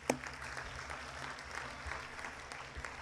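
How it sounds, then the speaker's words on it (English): A crowd applauds steadily at a high school football assembly, a broad wash of clapping heard from within the room, with no talking. "I want a round of applause for coaches for a minute."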